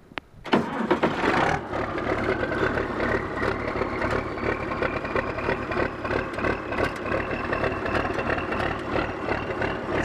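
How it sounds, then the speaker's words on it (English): An Oliver 1855 tractor with a Waukesha engine cold starts: a short cranking burst catches and settles into a steady, fairly loud idle with a continuous mechanical rumble and rattle. "Gonna do a cold start up."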